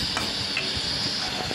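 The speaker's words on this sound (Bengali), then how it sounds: "আলু দিয়ে একটু ভালো করে কষিয়ে নিই" Potatoes sautéing in a pan for a vegetarian home-cooked dish, giving a steady close hiss and sizzle with a few soft stirring scrapes and no voices.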